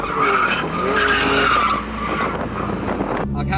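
A Nissan 300ZX Z32 with a welded differential drifts on the street, its tires squealing in a loud, sustained screech layered over engine roar, dropping off abruptly near the end.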